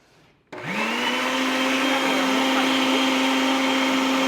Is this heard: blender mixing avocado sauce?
yes